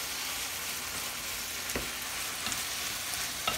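Seasoned meat with garlic, salt, pepper and chicken bouillon frying in a pan, a steady close sizzle and crackle with a few small pops, no voices.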